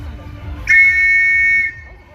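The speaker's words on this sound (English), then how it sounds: "There goes the whistle, so she's got to get back to the finish" A single loud referee-style whistle blast lasting about a second at a county fair obstacle event, sharp and steady over low crowd murmur before fading back to background noise.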